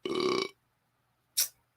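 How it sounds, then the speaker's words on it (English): A human burp stock sound effect: one loud, drawn-out belch of about half a second, alone, then a short, sharp breathy burst after a pause. "Human burp 2."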